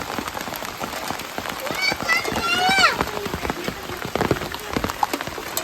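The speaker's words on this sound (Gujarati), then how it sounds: "અત્યારે બહુ વધારે ફૂલ વરસાદ આવી ગયો છે" Rain pours down steadily on a surface, a dense close patter of drops throughout, with a brief high warbling sound near the middle.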